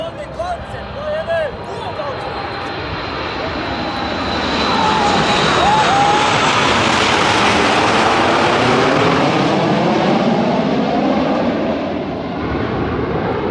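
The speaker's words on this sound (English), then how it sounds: "This Etihad Boeing 787 plane performing a low pass on formation." An Etihad Boeing 787 airliner makes a low pass in formation over Yas Marina Circuit with aerobatic jets. Loud engine roar swells as it approaches, peaks overhead, then eases slightly, while a voice talks over it.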